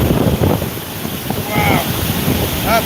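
Floodwater rushing out of a drain and pounding onto concrete during Typhoon Hinnamnor in Ulsan, South Korea, a loud steady roar with wind buffeting the microphone and a few brief voices.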